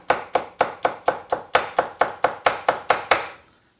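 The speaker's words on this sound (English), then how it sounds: "Now you can chop these however the hell you want." A steel knife roughly chops smashed, peeled cloves on a board in a home kitchen: about fourteen crisp, evenly spaced thwacks in a quick steady rhythm, close and clear, then stopping.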